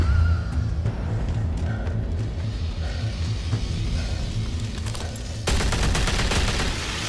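Sustained, rapid gunfire from the Batman: The Telltale Series game rattles on without pause, a dense fusillade over a low rumble, growing brighter and harsher near the end.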